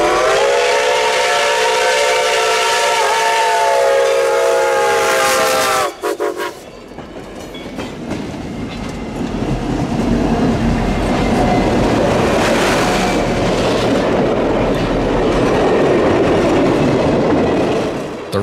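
Reading and Northern steam locomotive 425 pulls a 17-car train past, opening with a loud sustained whistle blast, then a heavy roar of exhaust and rolling cars carrying on strongly nearby.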